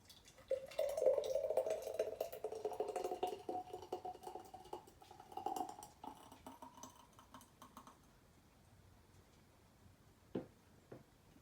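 Herbal bitters with ginger and turmeric poured into a small mason jar, a gurgling liquid stream for several seconds that thins to drips, followed by a faint glassy clink.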